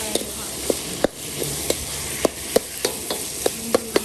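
Pork, shrimp and squid are stir-fried in a wok, with a steady sizzle under sharp, evenly spaced spatula clanks and scrapes against the pan, close by and without talk.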